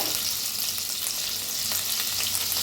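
Garlic, green chilli, ginger and coriander paste, pounded in a mortar, sizzles steadily in hot oil in a pan, a constant close frying hiss with faint stirring and no talking.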